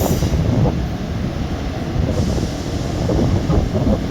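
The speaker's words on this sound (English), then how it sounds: "that train just went" A train passes through Newport Station at speed, a steady loud broadband rumble of wheels and carriages close by that holds for the whole stretch with slight swells and wind buffeting on the microphone.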